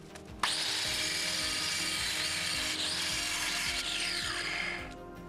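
A disc saw cuts a large stone block for a cellar vault, one loud, steady, grinding whine that starts abruptly and runs on without a break before easing off at the end.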